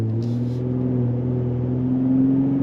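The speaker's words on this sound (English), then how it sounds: "Leaving the light, you got smooth shifts from the 10-speed automatic." A 2025 Ford F-150 Raptor with a 10-speed automatic pulls away from a traffic light, its engine drone steady and close, rising slightly in pitch as it gains speed, with no talk over it.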